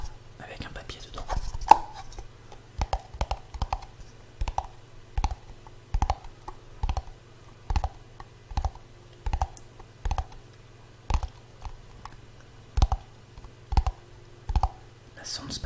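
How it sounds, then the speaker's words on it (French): Fingertips tapping a small bamboo box with paper inside, producing crisp, light wooden clicks in short clustered bursts at a fairly regular pace, close and quiet over a low steady hum. "Nouveau déclencheur. Petite boîte en bambou."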